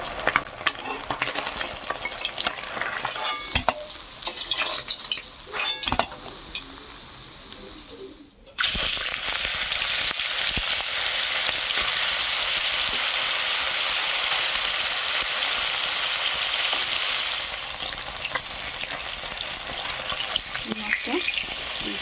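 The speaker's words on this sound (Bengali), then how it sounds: "মাছটা দুটি ভালো করে ভাজা হয়ে গেছে" Kajol gouri fish fry in hot oil in a pan: a steady hiss of sizzling with a few clatters of stirring, the frying growing louder and more constant partway through.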